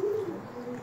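A racing pigeon gives a soft, low coo close by, a single short murmuring call with little else around it.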